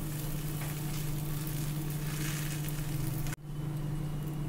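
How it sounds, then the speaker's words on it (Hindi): Steady oily sizzle of a rice-stuffed paratha frying in cooking oil on a hot tawa, constant and close, cut briefly by a short break near the end. "अब इस पर हम ये चावल की स्टफ बेली हुई रोटी को डालेंगे।"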